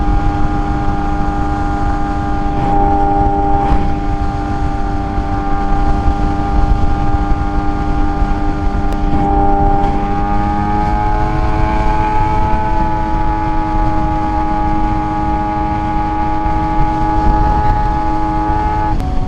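A Suzuki GSX-R 750 motorcycle ridden steadily, its engine a loud continuous drone with rising and falling tonal harmonics as revs shift, under heavy wind rush.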